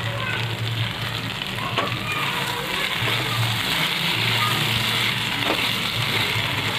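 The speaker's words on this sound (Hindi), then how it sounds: "यहाँ पर मैं टमाटर केचप ऐड करूँगी, इसमें अच्छा फ्लेवर देता है, अच्छा लगता है इसमें। अच्छे से मिक्स करके लेंगे।" Chilli chicken fries and gets stirred with tomato ketchup in a hot pan, a loud steady sizzle running throughout with faint scraping from the stirring and a low hum underneath.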